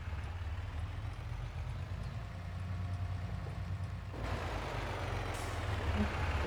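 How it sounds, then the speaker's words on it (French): A fire truck engine in Farming Simulator 22 idles steadily at a low rumble while being parked, with a brief air hiss partway through. "Je vais garer le véhicule à l'intérieur."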